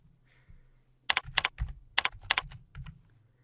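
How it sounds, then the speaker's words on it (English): Quick keystrokes on a computer keyboard arrive in short irregular bursts of crisp, close clicks against a quiet room hum, with no voices. "I'm gonna have to type them."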